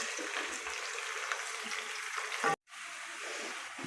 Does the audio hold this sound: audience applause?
no